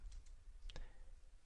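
Light keyboard clicks as a command is typed into a router command line, a couple of quick taps near the start and a short tight cluster a moment later, faint and close over a low background hum.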